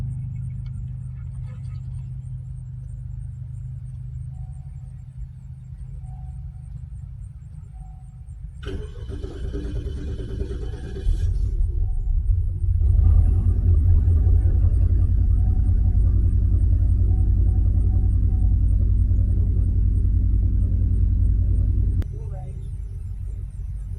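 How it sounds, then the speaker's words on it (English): A Cadillac DTS with a newly replaced fuel pump rumbles at a low idle, then cranks briefly and starts, settling into a loud, steady running drone close by before easing slightly near the end. "Let's go ahead and prime the system, see if it'll start."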